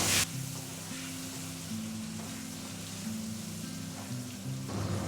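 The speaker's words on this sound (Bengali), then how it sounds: "এবার ভালো করে সব মিশিয়ে কষিয়ে নেব।" Spices for a Bangladeshi chela fish curry are stirred and fried in a pan, producing a soft, continuous sizzling hiss over a low steady tonal drone, with a brief clatter at the start.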